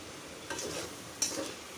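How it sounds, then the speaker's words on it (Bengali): A vegetable curry stir-fries in oil, a faint steady sizzle broken by two light scrapes of a spoon against the pan. "এখন এভাবে এভাবে ভাজা ভাজা করে নেব"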